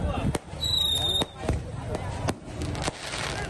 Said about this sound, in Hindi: शानदार आतिशबाजी का मुजाहरा भी किया गया